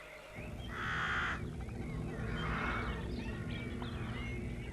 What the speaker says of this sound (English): these are flying animals called birds